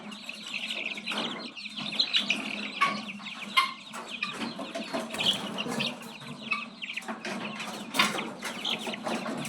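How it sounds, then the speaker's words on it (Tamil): Young country chicken chicks, about twenty days old, cheep and cluck near a farm yard in a busy, overlapping stream of short calls, with occasional sharper peeps and no talk. "இதுதான் ஃப்ரெண்ட்ஸ் நம்மளோட கோழி குஞ்சு"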